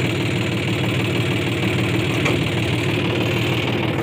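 A John Deere 5105 tractor engine running steadily at close range, a continuous even diesel rumble with a slight knocking texture and no talk.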